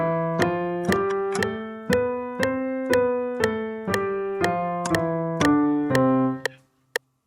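A piano plays a steady ascending then descending major scale at 120 BPM, one clear note per beat, ending with a faint tap.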